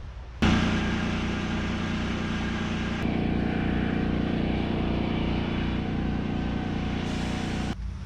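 A Yamaha TT-R125 dirt bike engine catches abruptly and runs at a steady, loud, rhythmic idle for several seconds, then cuts out near the end.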